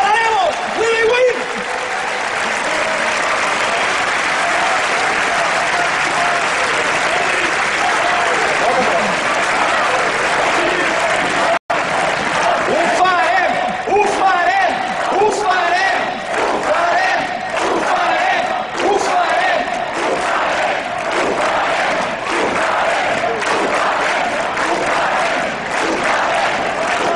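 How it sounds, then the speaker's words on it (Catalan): A large crowd at a political rally in defense of democratic institutions bursts into loud, sustained applause and cheering, with rhythmic chanting voices rising through the clapping for nearly half a minute. "Un fort aplaudiment, perquè som aquí, perquè no ens cansem de tenir raó i perquè guanyarem!"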